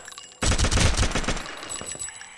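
SCAR rifle with a drum magazine in the zombie mode of Gun Builder ELITE 2.0, firing a rapid, loud burst of closely spaced shots that starts abruptly and then tails off into a fading echo.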